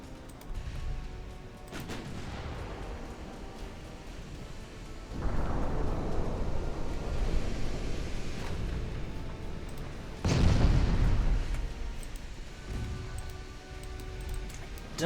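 Heavy naval shell explosions in the warship game Ultimate Admiral Dreadnought, with battleship rounds landing as deep booms at intervals, each swelling into a long rumbling roar over a low background.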